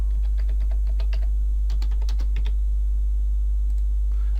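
Fingers type login credentials on a computer keyboard, close quick clusters of key clicks with short pauses, over a constant low electrical hum and no speech.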